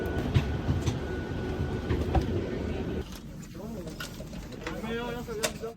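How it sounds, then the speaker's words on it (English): Rumbling rail noise on a high-speed train between Malmö and Stockholm, a steady low roar for three seconds that drops to a quieter hum with faint chimes or announcement tones, while someone speaks in the background. "I would like to see what it's like to ride this high-speed train."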